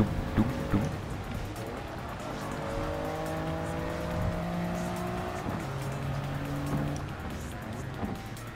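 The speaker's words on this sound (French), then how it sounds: "Là, on entend le son de... des sections de route là qu'on passe." A car in Gran Turismo 7 runs along the Tokyo Highway, its engine holding a steady drone while the tyres give occasional soft thumps over road-section joints.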